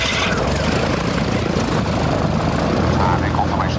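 RAF propeller aircraft taxi and take off, a steady loud engine drone and propeller roar filling the whole stretch, with voices heard over it.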